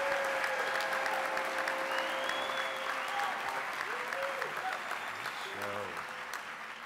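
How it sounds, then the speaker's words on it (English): Commencement audience applauding master's degree recipients, dense sustained clapping from a large crowd that slowly fades, with faint voices and whistles mixed in. "Let's give our master's degree recipients another round of applause."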